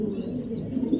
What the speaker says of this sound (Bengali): একদম জনসন ব্লাড লাইনের একটা নর কবুতর